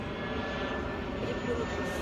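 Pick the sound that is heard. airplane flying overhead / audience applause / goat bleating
airplane flying overhead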